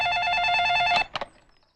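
A telephone rings with a bright, steady electronic trill for about a second, then cuts off abruptly, leaving a couple of soft clicks and near silence.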